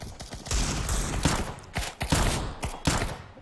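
Five-SeveN pistol in the shooter video game CS:GO fires a rapid series of sharp, loud shots in uneven bursts, close and dominant, with no talking.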